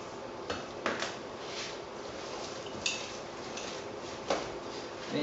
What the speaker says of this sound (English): keep mixing it. Mixing and stirring.